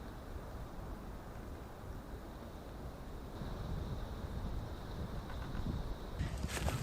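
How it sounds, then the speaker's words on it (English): Cold outdoor wind buffets the microphone in a steady, dense roar that swells slightly louder toward the end, with no speech over it. "Oh, this bloody wind, it's cold, even with all these layers."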